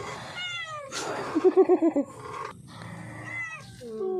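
A cat meows in a quick series of short, close calls, with a few higher mews at the start and end.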